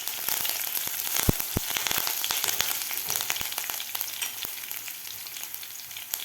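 Crushed green chillies and garlic frying in hot oil as the tempering for a yogurt kadhi, giving a steady bright sizzle with scattered sharp crackles and pops, close by and with no voices.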